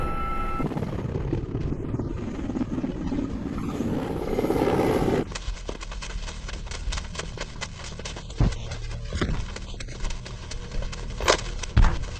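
A helicopter's rotor chops and drones loudly before cutting off abruptly, followed by quieter scattered clicks and thumps.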